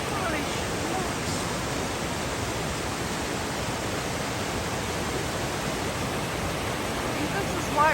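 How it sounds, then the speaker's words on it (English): Rushing water of White Waterfalls on the Foothills Trail, a steady, loud, broadband roar of falling water filling the whole stretch, close and continuous with no pauses. "I think this is White Waterfalls."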